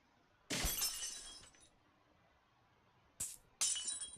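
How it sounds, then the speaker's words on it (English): A wristwatch smashed against the floor in the video game Chrono Clock, heard as a sharp shattering glass burst that rings off, followed later by two more quick crashing, tinkling breaks, with no talk. "I took my watch and smashed it against the floor"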